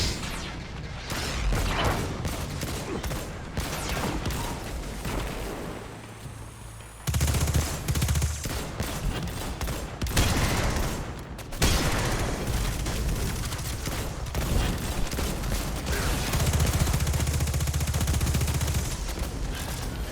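Sustained gunfire in Destiny 2: rapid automatic bursts and heavy booming shots pound on and off for twenty seconds, loud and close with brief lulls between volleys.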